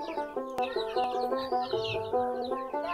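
A flock of about 55 native chicks under a 60-watt brooding bulb cheeps continuously, a dense chorus of high repeated peeps close by with no talking.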